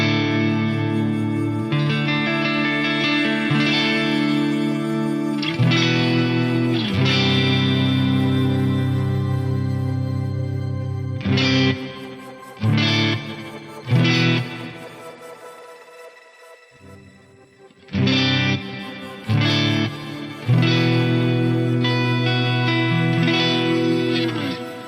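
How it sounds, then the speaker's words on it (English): Electric guitar played through an Axe-FX 3 ambient reverb with input diffusion turned up, sustained chords blooming into a wide smeared wash, with brief pauses where the tail rings out. "a little bit more of that kind of smear that I like with an ambient reverb"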